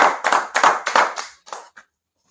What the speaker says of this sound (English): Clap up again.